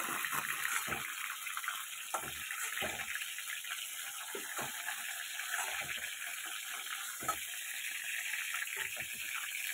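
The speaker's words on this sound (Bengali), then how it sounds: "একটু হালকা হালকা ভাজা করে নিই আগে" Pointed gourds (potol) being lightly fried in hot oil, a steady sizzling hiss with scattered crackles and pops running throughout at a fairly even level.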